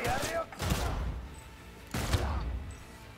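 Gunfire in Cyberpunk 2077, heard as two loud, short bursts about a second and a half apart, each a sharp blast with a booming tail that rings on briefly, and near silence between the bursts.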